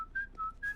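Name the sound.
whistling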